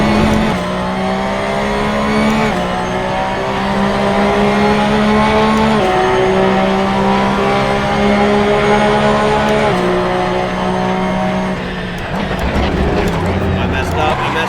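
A race car in a sim racing game roars at high revs, the engine rising and dropping through gear changes, with tire squeal toward the end and a player talking over the loud, continuous engine note.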